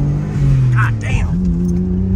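A twin turbo Mitsubishi 3000GT VR4 accelerating from inside the car, a loud steady engine drone rising in pitch, with people talking over it.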